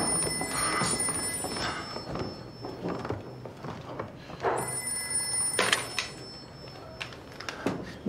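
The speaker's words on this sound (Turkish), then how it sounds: "Semih Bey telefon Ekrem'de." An office telephone bell rings loudly in repeated bursts with short gaps between them, close and clear, amid background room noise.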